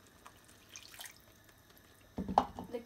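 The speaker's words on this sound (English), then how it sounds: "Next, add the remaining water," Remaining water is poured into a simmering korma curry in a pan: a short splashing pour starts after a couple of seconds of near quiet, with faint drips before it.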